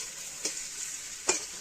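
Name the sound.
fish frying in a pan at a picnic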